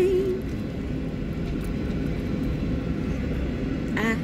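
Steady low engine roar fills an airplane cabin while boarding, a continuous broadband drone held at an even level throughout, with a brief chirpy sound near the end.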